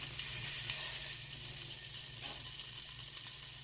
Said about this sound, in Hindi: गरम मसाला जब तक फ्राई हो रहे हैं, उसी के साथ हम डालेंगे कड़ी पत्ते